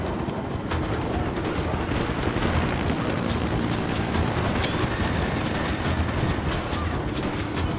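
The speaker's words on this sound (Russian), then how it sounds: "Ты сможешь сбить вертолет здесь?" A helicopter in the Max Payne 3 video game thunders continuously, its loud rotor chop and engine roar filling the whole stretch up close, with no voices.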